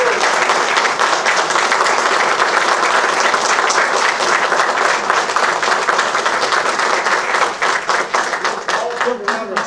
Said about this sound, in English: can we give our students a round of applause?